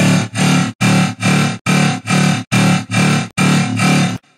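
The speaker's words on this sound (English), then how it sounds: "that's just to make it a sprinkle of reverb on top, just to finalize that sound." A distorted metallic dubstep synth plays a chopped, pulsing pattern of short bursts with a light wash of reverb trailing between them.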